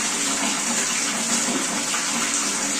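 Water runs and splashes steadily as a young child is bathed at home, a close, continuous gush like a filling tub with light sloshing and no talking.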